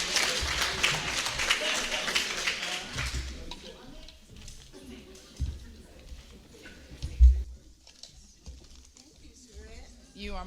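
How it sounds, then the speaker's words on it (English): A crowd claps for a speaker at a women's empowerment and networking event, a burst of applause in the first few seconds that fades into scattered claps and murmuring voices. "please give her a warm round of applause"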